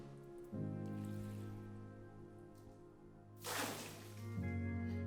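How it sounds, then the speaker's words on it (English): A cup of water is poured down a deep well, over 100 feet deep. It lands as one short, broad splash near the end of the clip, over a steady low hum, with quiet stretches before it. "I want you to dip a cup of this water and pour it down the well"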